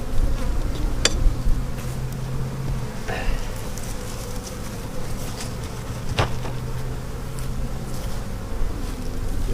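Honeybees buzzing around an open backyard hive during an early-season inspection, a steady close insect drone with brief louder passes near the ear and no talk.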